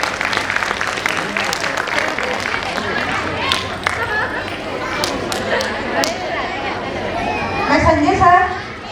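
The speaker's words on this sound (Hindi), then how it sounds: "जोरदार तालियां हमारे शहीदों के नाम।" Applause from the audience at a school annual function fills the hall, with dense clapping mixed with crowd chatter, swelling slightly toward the end.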